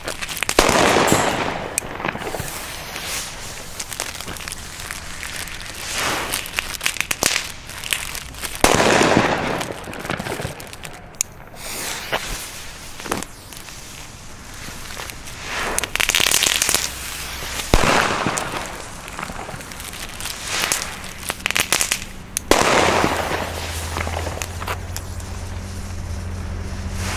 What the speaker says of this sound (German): aber dennoch ein sehr, sehr guter Böller. Oder Kanonenschlag eben.